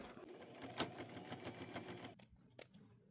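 A sewing machine stitches together joined fabric strips at a seam, giving a fast steady mechanical whir with small ticks for about two seconds, then stopping, followed by a couple of faint clicks.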